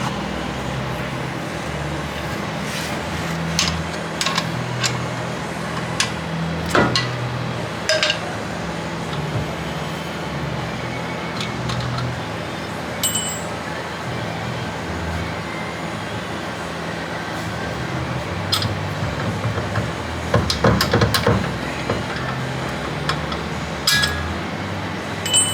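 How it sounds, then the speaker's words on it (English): Metal clinks and scattered knocks ring out while the drive shaft is unhooked underneath a 1940 Ford Tudor sedan, with a steady low rumble underneath and a busier cluster of clanks near the end. "We are unhooking the drive shaft."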